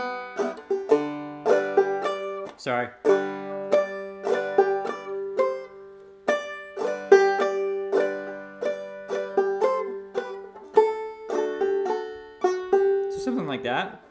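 A simplified clawhammer banjo arrangement of Greensleeves plays as a steady stream of plucked notes and ringing strings. A brief spoken word and a scrape come in right at the end.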